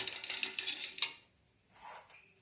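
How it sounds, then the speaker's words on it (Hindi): Fried dal and namkeen mix tumbles into a pan, a brief rattling, clinking pour of dry crunchy bits, then a short scrape and quiet. "अब हम इसमें सभी अपने दाल और सब चीज़ नमकीन जो हमने बनाई है वो हम सब इसमें डाल देंगे"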